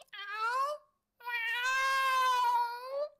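A voice imitates a cat meowing, giving a short mew, a pause, then a longer drawn-out wavering meow, close and clear with nothing else audible.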